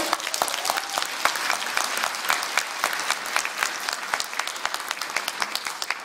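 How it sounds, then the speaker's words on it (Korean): Steady, dense applause from a sizable crowd at a political campaign speech, many hands clapping continuously at a strong, even level throughout. "힘찬 박수로 맞아주십시오"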